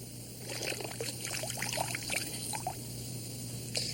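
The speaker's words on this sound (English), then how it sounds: "Now pour fingernail polish remover over the top." Fingernail polish remover poured from a container over mashed plant goo in a glass, a soft liquid trickle with small splashy drips over a low steady hum, close and quiet.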